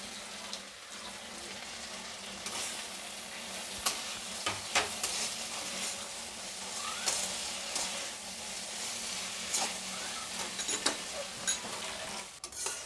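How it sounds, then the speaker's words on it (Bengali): A cornflour and water slurry sizzles in a pan of homemade chilli chicken, giving a steady frying hiss broken by the sharp clicks and scrapes of stirring throughout. "কর্নফ্লাওয়ার অল্প জলে গুলে"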